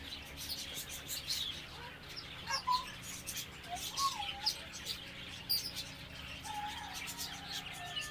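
Birds at Sharjah Desert Park, including doves cooing, give scattered chirps and tweets over a faint outdoor background, moderately distant and with no talking.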